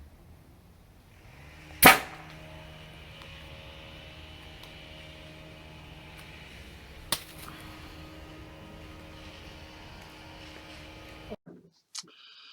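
A homemade air cannon with a 1-inch valve fires into the air outdoors in a yard: one sharp loud blast with a brief decaying tail, followed by a fainter pop and small clicks against quiet background hiss.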